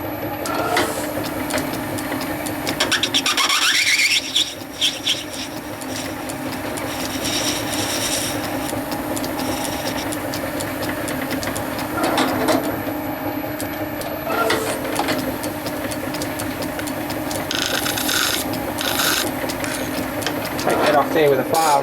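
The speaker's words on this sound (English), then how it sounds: "Only job left is to machine the outside and take that burr off the edge." A metal lathe turns the outside of a bush held in a three-jaw chuck, giving a continuous mechanical whir and clatter with changing cutting noise, while someone speaks over it at times.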